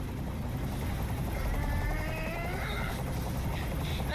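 A helicopter hovers in the Heavy Rain video game, a loud continuous rotor drone and whine filling the whole scene with a faint voice beneath.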